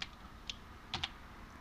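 A few sparse computer keyboard keystrokes, two close together near the end, quiet and close with no talking.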